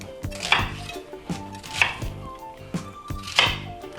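A knife chops an onion into large pieces on a board, with a series of crisp, close chops spaced about a second apart and clicking against the board, with no speech.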